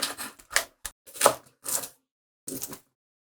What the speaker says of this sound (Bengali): পেঁয়াজের পাতাগুলোও কেটে নিচ্ছি।